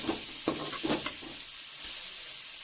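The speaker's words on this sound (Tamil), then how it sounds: "இப்போ இது எல்லாத்தையும் நல்லா கிண்டி விட்டுக்கலாம்" Grated unripe papaya being stirred in a frying pan for a Tamil poriyal, a soft hiss of frying under a few quick scraping stirs near the start, close and fairly quiet, with no speech.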